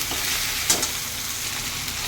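Ginger and garlic paste frying in a hot pan with a dense, steady sizzle and a brief stirring scrape, close and alone.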